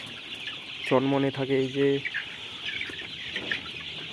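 Chickens let loose outside their farm give a short run of harmonic clucks near the middle, up close, while a person talks and birds chirp faintly around them.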